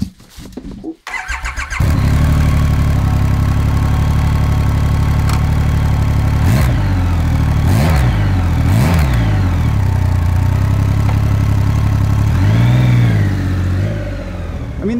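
A Triumph Rocket 3 GT with its 2500cc triple engine starts up, idles with a deep burble, then rises through several sharp revving accelerations and throttle blips, loud and close, before settling back down.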